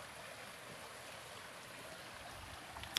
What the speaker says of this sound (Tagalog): Sa malaking sapa mga kaidol. Malalim.